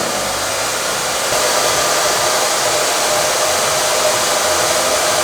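A hair dryer blows continuously at close range, a loud steady rushing whoosh with a motor whine underneath.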